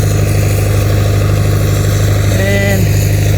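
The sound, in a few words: engine running to pressurize a boom sprayer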